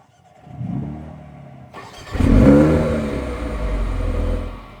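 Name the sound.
AMG car engine startup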